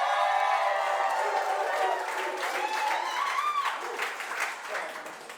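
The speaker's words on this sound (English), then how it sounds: "Give yourselves a big round of applause for being here." A live studio audience at a skincare product reveal applauds and cheers, the crowd noise moderate and roomy, with whistles and calls over the clapping before it gradually tapers.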